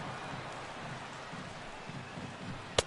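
Steady soft hiss of rain falling on an open baseball stadium during a game, faint and distant, with one sharp tap near the end.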